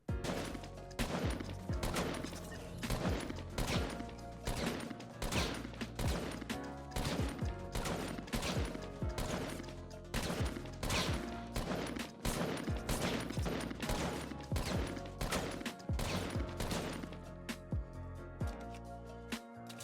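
Rapid, evenly spaced gunshots ring out in a Fortnite aim-training minigame against moving targets, a loud sustained stream of sharp cracks with almost no gaps.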